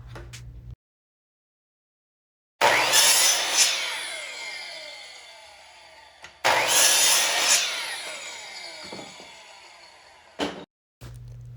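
A sliding compound miter saw cuts flat wood strips in two loud bursts of several seconds each, every one starting sharply and fading as the blade winds down, with brief clicks and quiet gaps between the cuts.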